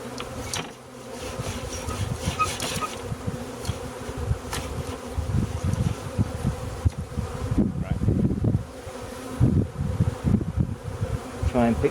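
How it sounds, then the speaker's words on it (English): A dense crowd of bees buzzing close by, a steady overlapping drone with individual insects swelling louder as they pass near, over faint rustling. "I don't think we can fit another bee in here"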